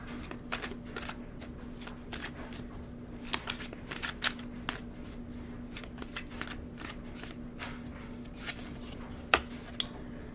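Tarot cards being shuffled and drawn by hand, a close series of crisp riffling snaps and slides in uneven bursts, some louder flicks standing out, over a faint steady hum.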